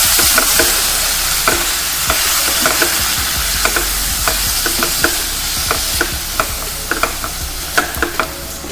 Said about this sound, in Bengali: এবার অল্প একটু জল দিয়ে সব কিছুকে কষিয়ে নিতে হবে